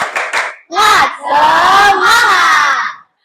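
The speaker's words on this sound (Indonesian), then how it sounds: "Kita tepuk semangat, oke?" A school class of children shouts a rhythmic spirit chant together in a classroom, loud unison voices in a few short bursts and then a longer sustained call before stopping abruptly.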